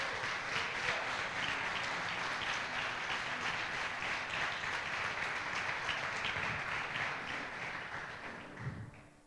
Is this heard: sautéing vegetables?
no